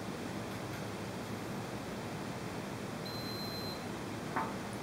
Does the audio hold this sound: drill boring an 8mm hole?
no